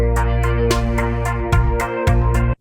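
A guitar VST riff, crunchy and distorted, plays in a full mix with rhythmic accented hits and a ticking percussive layer. It cuts off sharply at the end.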